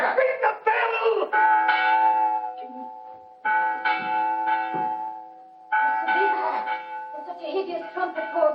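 An alarm bell rings repeatedly with sustained, resonant metallic tones in several long strokes, partly overlapping with shouting voices.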